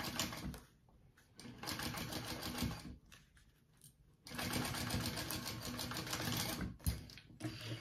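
A sewing machine bastes a piece of a crossbody bag, running in two long buzzing bursts separated by short stops, close and clear with no talk.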